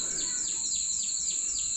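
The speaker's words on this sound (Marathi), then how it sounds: "पाखरांचा वगैरे मस्त आवाज येतो आहे तिकडे" Birds chirp on a morning in a Kokan village, with a quick series of repeated descending tweets at a regular pace over a steady high background drone.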